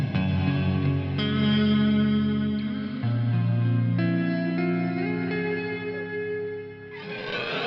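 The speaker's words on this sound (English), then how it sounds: "We lift our foot off of it, and it slowly fades away using the trails." An EarthQuaker Devices Afterneath V3 reverb pedal sustains a dense, shimmering wash of layered guitar tones that shifts chords and slowly thins out as its trails decay, ending in a brighter swirling smear; no voices.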